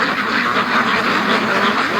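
Ducks quack by a creek in the early morning, a loud, close, continuous chorus of overlapping calls in a steady pulsing rhythm.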